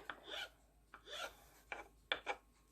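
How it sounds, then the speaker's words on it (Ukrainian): A knife scrapes and cuts against a board in a few short, quiet strokes, dicing boiled eggs into cubes, unhurried and close by. "Я їх нарізаю кубиками."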